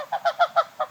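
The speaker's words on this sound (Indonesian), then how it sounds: "Ini berarti salju. Bebek jenis salju nih, Sat. Iya. Tapi suaranya kayak angsa nih, Sat." A snow goose honks five times in quick rhythmic succession, clear nasal calls close by against a quiet background.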